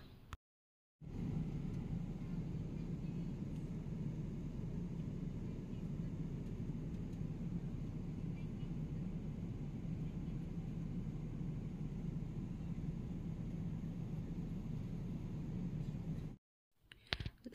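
Steady airplane cabin noise during a flight of nearly four hours, a constant broadband roar that holds evenly after a brief silent start and cuts out near the end.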